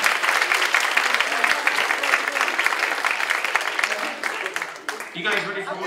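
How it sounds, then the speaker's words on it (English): An audience at a college hypnotist show claps for the volunteers, a full, sustained round of applause that fades near the end as a voice comes in. "Give them all a round of applause, ladies and gentlemen."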